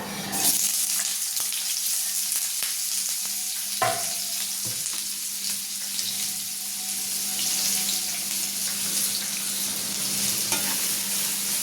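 Chopped onion and mustard seeds frying in a pan for an eggplant bharit, a close, steady sizzle with occasional stirring scrapes, alone without talk.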